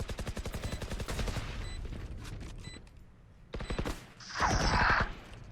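Rapid gunfire in the video game Valorant, with bursts of automatic shots followed by a louder blast and electronic game effects, heard up close and without talk over it.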